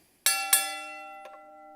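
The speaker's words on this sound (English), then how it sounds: "The bell rings" Boxing match bell ringing: two sharp metallic strikes in quick succession with a long ringing decay, then a fainter third tap, heard clearly and alone.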